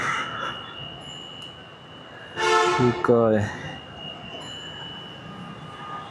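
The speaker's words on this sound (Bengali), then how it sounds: "এখন আবার ট্রেন যাবে" A train passes nearby, its horn blaring loudly for about a second amid rumbling, with a quiet background hum and brief talk before.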